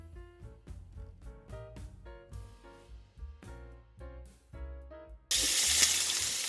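Chopped onion drops into hot oil for a Bengali-style mustard salmon curry, setting off a sudden loud, steady sizzle that cuts in after a stretch of plinking music and carries on to the end.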